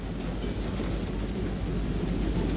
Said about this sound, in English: Here is Voight on board a runaway train that is hurtling across Alaska